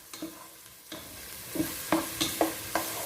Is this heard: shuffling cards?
no